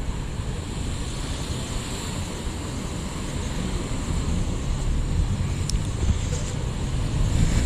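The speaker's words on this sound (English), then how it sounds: "Let's let this car pass." A car passes along Shabab Street, also called American Alley, in Juffair, Manama, Bahrain, a steady broadband road rumble mixed with wind that swells slightly toward the end.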